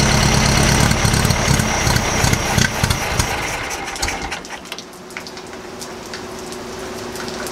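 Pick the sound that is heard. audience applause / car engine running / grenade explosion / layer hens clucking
car engine running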